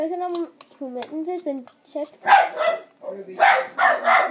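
A pet dog barks in short loud bursts near a person talking over the start, with bright yappy barks crowding the second half as someone works on a DIY stress ball.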